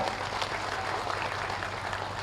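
A crowd at a Telugu Language Day public event applauds Venkaiah Naidu, a steady wash of clapping heard from some distance over a low hum, moderately loud and continuous.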